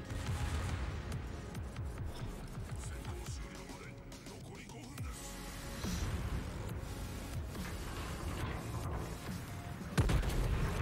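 Distant, muffled battleship gunfire in World of Warships with a Japanese tier 8 Amagi battleship, thudding salvos and rumbling shots scattered through a steady low battle drone, quiet overall.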